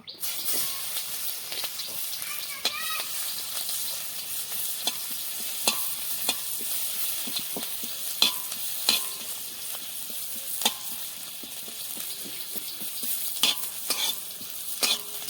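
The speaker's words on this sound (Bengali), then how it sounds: "প্রথমে পেঁয়াজ কুচি দিয়ে নেব।" Chopped onion fries in a pan for a papaya dish, with a steady sizzle and intermittent spatula scrapes and clicks recurring across the whole stretch, nearby and fairly quiet, with no talk.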